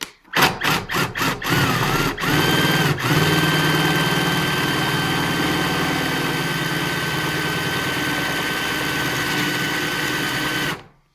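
A power drill with an auger bit whines steadily for several seconds after a few short bursts, its motor loaded as if boring through wood, then cuts off.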